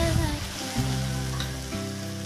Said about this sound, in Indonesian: Lanjut aku mau tumis bumbu ya, bumbu yang tadi aku blender.